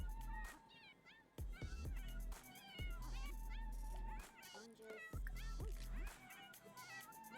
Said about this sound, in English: And now my cat is super loud.